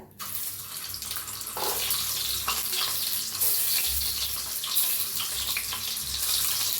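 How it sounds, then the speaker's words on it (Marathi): Scored eggs drop into hot oil for an egg curry, setting off a loud, continuous hissing sizzle that swells after a brief quiet start and keeps crackling steadily. "मी तेल मी चांगलं तापलंय आता हे अंडी सोडून घेऊया तेलात"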